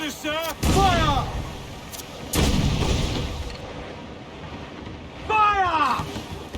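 Ship cannons firing in Assassin's Creed 4 Black Flag, a few heavy booming volleys with rumbling tails spaced a couple of seconds apart, over constant sea and wind noise while voices shout.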